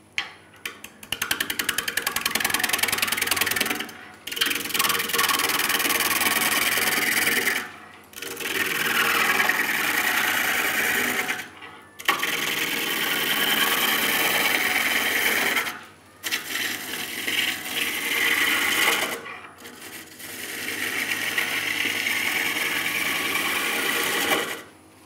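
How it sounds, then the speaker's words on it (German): Wet alder wood turning on a lathe for a small vase, a loud steady scraping hiss as the gouge peels long shavings, repeated in about five cuts separated by short pauses, with no talking. "Das Schöne an Nassholzdrechseln ist eben das, es entstehen wunderschöne lange Späne."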